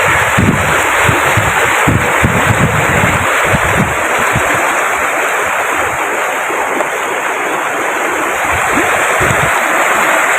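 Water from Kalri Lake rushing and splashing in a steady, loud broadband torrent, like a stream or small waterfall, continuous throughout with some wind buffeting the microphone.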